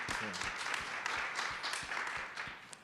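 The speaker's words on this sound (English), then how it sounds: "Yes, yes, please clap for that." Audience clapping at a livestreamed salon talk, a steady dense patter of many hands held at an even level from start to finish, moderately near, with a faint voice briefly audible near the beginning.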